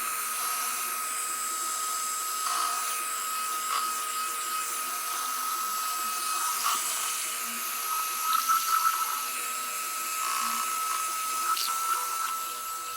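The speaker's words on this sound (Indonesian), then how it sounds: "menggunakan hand mixer ini" An electric hand mixer whirs steadily as it beats a homemade ice pack gel mixture, a continuous high motor whine with slight fluctuations in pitch and load throughout.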